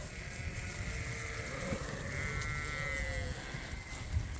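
Sheep on a farm bleat in long, wavering calls, one or two animals heard fairly faintly over a steady outdoor background.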